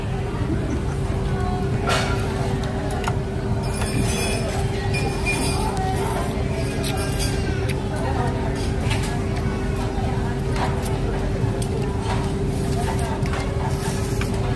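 A steady, loud rumble of a train passing close by in Japan, with a sustained hum and occasional clinks and rattles throughout.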